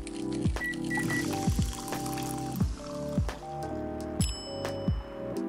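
Milk being poured and frothed for a latte in the coffee-shop game Coffee Talk, a string of squishy dripping and liquid sound effects repeating at a steady rhythm over soft background music, with no voices.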